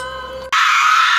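A woman screams suddenly and loudly, a harsh sustained cry cutting in after a steady tonal musical drone stops abruptly.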